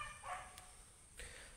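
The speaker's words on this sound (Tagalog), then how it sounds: "ang ingay ng aso kaluka" A dog barks a couple of times, quite far off and faint, near a small backyard cucumber patch, with short yelps separated by a quiet pause.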